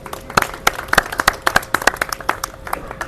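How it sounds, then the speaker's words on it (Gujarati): A crowd claps for the film's star cast at an influencer meet and greet in Vadodara, a loose burst of sharp, uneven claps, fairly close and continuous, with a few voices faint underneath. "એમના માટે તાળીઓ પાડો યાર"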